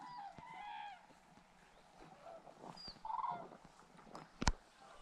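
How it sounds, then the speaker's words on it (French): Several storks call outdoors beside a lake in Armenia in a loose, irregular series of honking, squawking cries, some near and some farther off, ending in one sharper loud call. "Vous entendez? C'est les cigognes sans doute."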